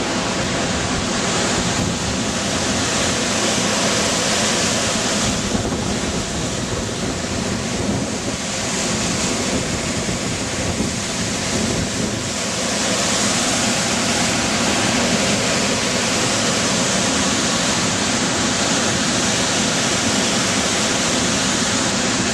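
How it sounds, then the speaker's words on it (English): A roughly 40-foot waterfall at Fossil Creek, Arizona, roaring steadily as a loud, dense, unbroken wash of falling water that fills the whole scene, heard up close with no voices. "I think we found a waterfall."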